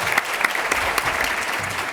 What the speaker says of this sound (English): I want to thank our panelists with a round of applause